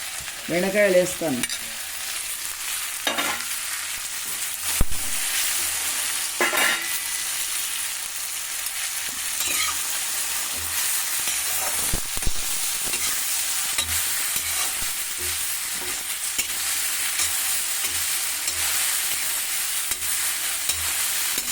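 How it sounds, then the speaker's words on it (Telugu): Okra (bhindi) frying in a pan for a coconut okra curry, a continuous close sizzle broken by repeated spatula stirring scrapes and clanks, with no talking. "మంచిగా వేయించుకోవాలి బెండకాయలను."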